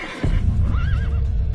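A horse in the video game Witcher 3 gives a loud, close, quavering neigh over heavy low rumble and the thud of hooves.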